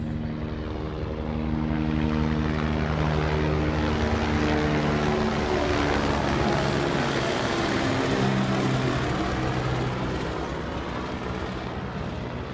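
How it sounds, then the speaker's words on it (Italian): A helicopter passes overhead in the open countryside, its rotor and engine noise a steady loud drone that swells and lingers, with no talk. "Adesso si è visto l'elicottero, è passato sopra."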